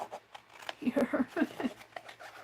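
Scissors cut through paper for mixed-media necklace crafting, a quiet run of snipping and rustling in a rapid cluster, with faint background sounds.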